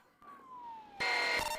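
Ambulance siren during a police pursuit in Georgia, a faint falling wail that swells into a loud, piercing tone partway through.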